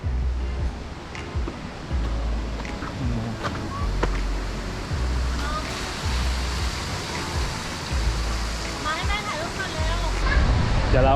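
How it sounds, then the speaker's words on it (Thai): Strong sea waves rolling onto the beach at Hua Hin on a windy day, a steady broadband roar of surf and gusting wind throughout, with a person talking over it at times. "วันนี้ลมแรงนะ คลื่นทะเลค่อนข้างแรงเลย"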